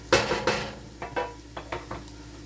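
Spoon scraping and clinking against a pan while stirring Bolognese sauce, about half a dozen short separate scrapes close by, quiet and without talk.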